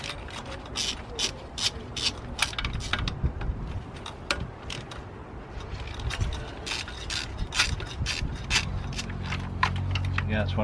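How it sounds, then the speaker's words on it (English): A ratchet wrench loosens the bolts holding an EGR valve to a car's intake manifold, giving bursts of quick close clicking with pauses between them and faint talk in places. "I should be able to just get on the 4 bolts that is holding the EGR onto the intake manifold"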